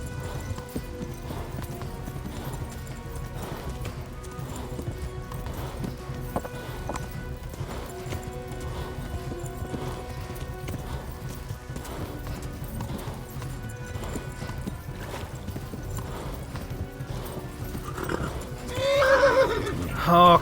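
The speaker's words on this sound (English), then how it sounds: "he's riding his horse like crazy" Hooves clip-clop rapidly as a horse gallops in the video game Kingdom Come: Deliverance, with whinnying neighs over the steady rhythm and a louder burst of sound near the end.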